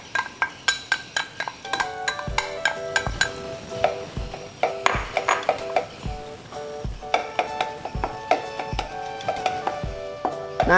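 Salted egg being stirred into melted margarine in a pan, a spoon scraping and clacking against the metal in quick repeated strokes over a soft sizzle, close and steady with no talking.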